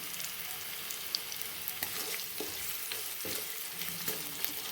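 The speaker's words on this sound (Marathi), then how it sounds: "छान आता हे परतून घेते मी। कांदा छान फ्राय झाला आहे।" Chopped onion and green chillies fry in a pan with a steady, fairly soft sizzle, broken by occasional light scrapes and taps of a spoon as they are stirred.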